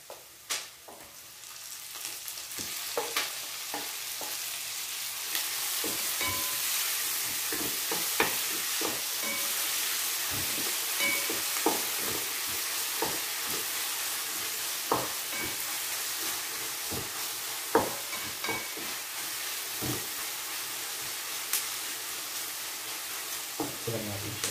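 Tomatoes stirred and frying in a pan for squid adobo, a steady sizzle running throughout with frequent scraping clicks of a utensil against the pan, close and continuous with no talking.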